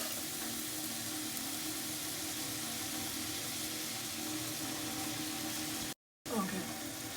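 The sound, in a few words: water poured onto sugar to dissolve it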